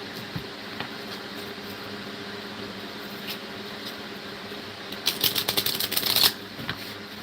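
A deck of cards being shuffled, a brief close riffle of rapid fluttering clicks about a second long, set against a quiet room hum.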